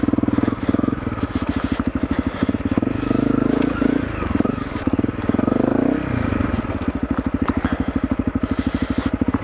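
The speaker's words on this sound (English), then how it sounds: "that's how you take a CRF250L through the woods" A Honda CRF250L trail motorcycle rides through woods, its engine thumping in a fast, steady rhythm close up, swelling and easing as the throttle changes, with faint crackles and scrapes from the trail.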